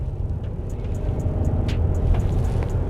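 A 2021 Suzuki Across plug-in hybrid pulls away under power from inside the cabin, a steady low road-and-engine rumble swelling gently with a few faint ticks above it and no talk.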